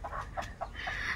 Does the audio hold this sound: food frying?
no